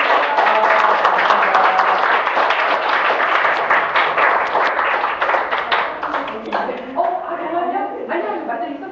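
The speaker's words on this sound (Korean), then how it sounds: "자, 박수 한번" Audience clapping at an invited lecturer's talk, a lively, close patter of many hands that thins into scattered claps as voices begin to talk over it near the end.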